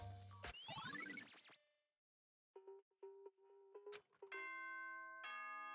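A chime from the video game Danganronpa: Trigger Happy Havoc rings out clearly, a short bright ding-dong melody with sustained bell-like tones that stops, then a second run of chiming notes follows after a brief pause.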